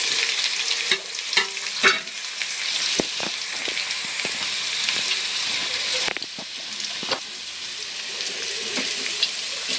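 Onion and capsicum frying for gobi manchurian, a loud continuous sizzle in a hot pan with scattered spatula scrapes and knocks throughout, no voices.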